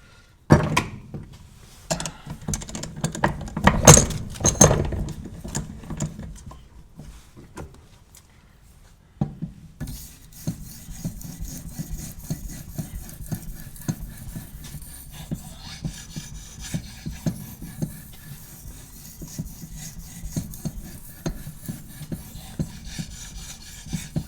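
A blade drawn across abrasive paper makes a dry, raspy scraping in short strokes, first a few sharp bursts, then after a brief pause a steadier stretch of rhythmic rubbing, close by with no voices.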